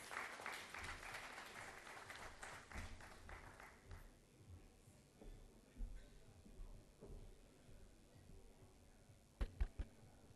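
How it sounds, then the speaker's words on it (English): Applause from the audience at a tech summit and awards event greeting a keynote speaker, fairly quiet and distant, fading after a few seconds, followed by sparse knocks and soft room sounds. "Let's welcome her with a big round of applause."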